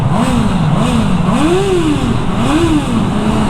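A Honda CB650R motorcycle engine revs up and down in repeated swells, rising and falling in pitch, loud and close with a steady rumble underneath.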